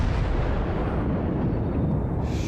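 The Yamato battleship's big guns fire in World of Warships, a dense, roaring low-frequency blast that fills the short span and stays loud throughout.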